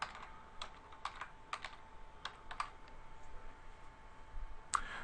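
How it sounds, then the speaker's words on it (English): Typing on a computer keyboard, a quiet run of irregular key clicks with short pauses and one sharper tap near the end, heard alone with no talking. "I'm going to type in colleague"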